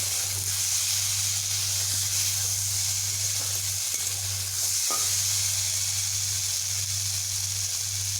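Pumpkin pieces fry with ground cumin in a pan for a bitter gourd dish, giving a steady, close sizzle that holds throughout with no talk.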